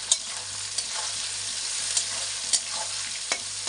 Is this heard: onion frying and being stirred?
yes